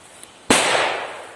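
A sharp, loud blast from a Piromax NITROX PXP208 firecracker breaks a quiet background, followed by a crackling, hissing tail that slowly fades over about a second.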